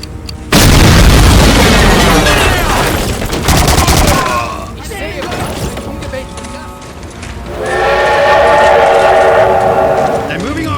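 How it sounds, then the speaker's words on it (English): A demolition charge blows up a flak cannon in the Medal of Honor: Allied Assault Spearhead shooter, a loud blast followed by rolling booms, gunfire and a second explosive burst. "get a demolition charge on this flak cannon"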